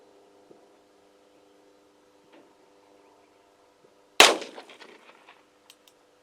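A single close, loud gunshot from a Bond Arms Rough-N-Rowdy .45/.410 derringer fired at a range, a sharp crack with a short decaying echo, after several seconds of quiet background hum.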